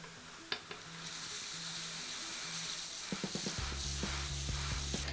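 Grain poured into the mash for a 3-gallon trippelbock homebrew batch, a steady dry granular hiss with a few knocks and clinks near the end.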